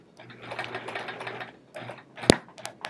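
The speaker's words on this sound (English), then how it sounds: "I'm gonna just start a few stitches here to kind of lock it in place" A quilting sewing machine runs in a short steady burst of lock stitches on a chevron quilt, pauses, then restarts briefly before a couple of sharp clicks; close and alone with no talking.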